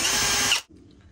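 Powered screwdriver whirring briefly while backing screws out of a Magic Mixies toy, a short close motor burst that stops abruptly.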